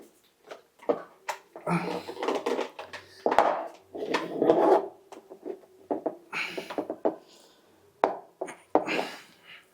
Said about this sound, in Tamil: இந்த ஒரு டைட்டரை யூஸ் பண்ணி முடிஞ்ச வரைக்கும் டைட் பண்ணிக்கோங்க